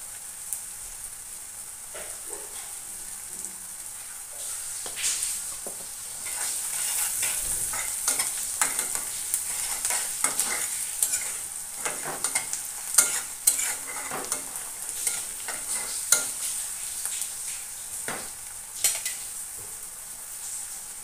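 Pan frying with steady stirring as turmeric goes in, an Indian-style poha preparation with salt already added: continuous close sizzle broken by scraping spoon strokes and light clinks against the pan, no voices.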